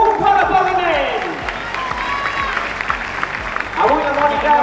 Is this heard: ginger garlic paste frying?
no